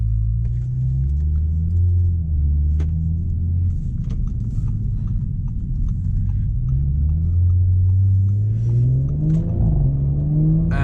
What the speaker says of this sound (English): It really pops and bangs a lot. It crackles on the downshift, on the overrun